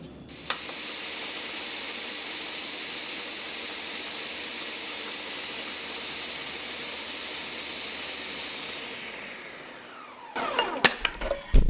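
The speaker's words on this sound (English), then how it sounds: "the same blender that I am, which is the Ninja 1000 watt professional blender" A Ninja 1000-watt professional blender grinds fresh corn in a steady, loud whirring roar for about ten seconds, then spins down, followed by a few clattering knocks of the jar and lid.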